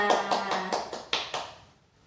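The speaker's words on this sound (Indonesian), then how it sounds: "Beri tepuk tangan buat kalian semua." Students in a classroom give a short round of applause, heard as about seven evenly spaced, crisp clap-like taps that fade out, fairly close and alone.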